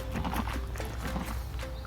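Horse hooves clip-clop in a quick, even rhythm near a tack room, moderately close and fairly soft against a faint background.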